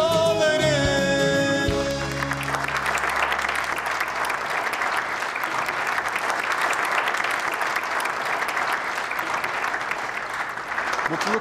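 Audience applause in a Turkish television drama setting, steady dense clapping that rises as a song's music fades out in the first seconds, then continues loud and sustained on its own.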